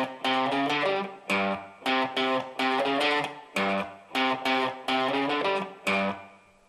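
Distorted electric guitar plays a riff, choppy picked notes in a repeating funky pattern with short gaps, close and alone without talk.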